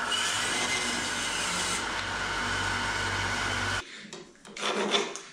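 A wood lathe spinning cherry wood between centers, a loud continuous whirring hum that cuts off abruptly, followed by a few softer rubbing and handling noises.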